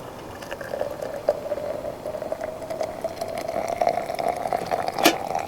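Coffee bubbling and boiling in a pot at a forest truck campsite, a steady soft burble of liquid with occasional louder pops, close and moderately quiet with no talking.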